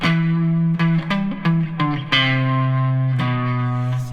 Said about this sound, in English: you can kick in the distortion if you want